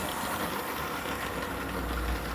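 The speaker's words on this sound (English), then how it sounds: "It's a lovely smooth locomotive," A Triang Hornby Brush Type 2 model locomotive runs smoothly along the track, giving a steady, even motor hum with a low rumble and no breaks.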